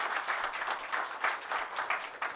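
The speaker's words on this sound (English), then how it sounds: "Let's give our panel a round of applause." A room full of people applauds a panel at the end of a dairy data talk, giving a steady, dense roll of clapping with gentle surges, fairly faint and with no voices.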